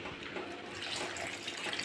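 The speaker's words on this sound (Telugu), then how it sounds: "కొద్ది కొద్దిగా వాటర్ వేసుకోవాలి" Water trickles in a soft, continuous pour as it is added little by little to idli batter made from ration rice, faint and steady with no voices.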